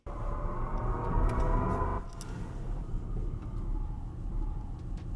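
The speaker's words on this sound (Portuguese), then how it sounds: "escuta o barulhinho que eu liguei agora do motor" A 2025 Chevrolet Blazer EV gives off its pedestrian warning sound, a steady low electric hum with a deeper rumble that holds for about five seconds, close by and without talk.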